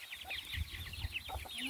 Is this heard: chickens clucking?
yes